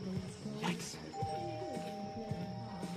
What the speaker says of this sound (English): That's a doorbell.